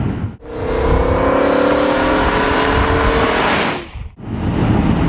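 A V10 sports car engine hums steadily while cruising in 7th gear at about 2,500 RPM and roughly 70 mph, a loud, even drone heard from inside the cabin with road noise, briefly dipping twice.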